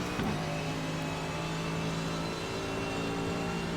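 A Mercedes AMG GT3 at Silverstone in iRacing holds a steady, loud engine drone, with the tone shifting under braking and acceleration, heard close with no talk over it.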